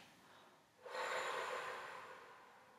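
A single long exhalation during a sophrology breathing exercise, a soft airy breath out that starts abruptly, holds strongly for about a second, then fades gradually, close and quiet with nothing else heard.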